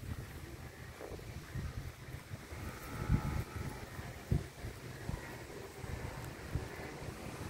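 Strong wind gusting outdoors while a homemade penguin kite and a flute kite are flown, with the wind buffeting the microphone in uneven surges and occasional harder thumps.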